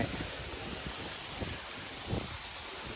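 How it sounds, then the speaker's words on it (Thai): A garden water pump fills and aerates pond water, giving a steady close broadband hiss like rushing air and water that holds an even level throughout, with no voices. "อันนี้ก็คือเปิดเติม เติมน้ำในสวนแล้วก็เพิ่มออกซิเจนนะครับ"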